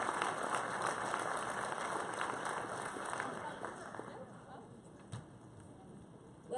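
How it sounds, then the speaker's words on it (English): Crowd applause at a high school athletic awards ceremony, a dense steady clapping that slowly fades toward the end. "Give them another round of applause."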